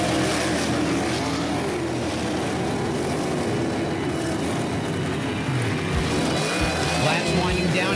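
Dirt track race cars roar around the track after a green flag restart, a dense, continuous engine drone with rising and falling passes, loud and steady beneath commentary.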